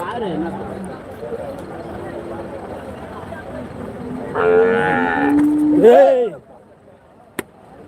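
Cattle at a cow market in Karimangalam mooing loudly and close, two drawn-out bellows in quick succession, with people chatting in the background around them.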